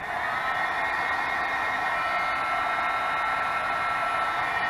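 A heat tool blows hot air steadily at a butterfly journal cover, a constant loud whooshing hiss that holds unchanged throughout, close to the microphone and with no talking.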